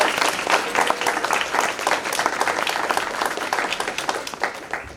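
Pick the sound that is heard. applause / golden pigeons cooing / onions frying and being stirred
applause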